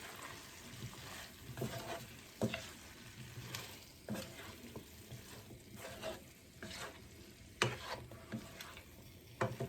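A potato mixture being stirred and mixed in a hot pan, with repeated clattering, scraping strokes over a low crackling sizzle, close by and rather quiet, with no speech.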